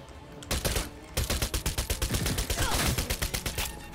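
Rapid gunfire in the video game Cyberpunk 2077: a short opening shot, then a fast, sustained string of loud, evenly spaced shots rattling for several seconds.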